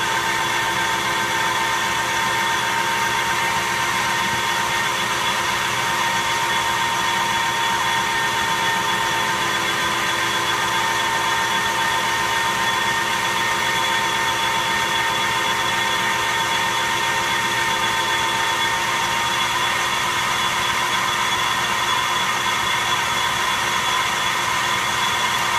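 A metal lathe cuts a spindle guard nut at a fine feed, giving a steady, loud machine drone with sustained tonal whine lines and no pauses throughout.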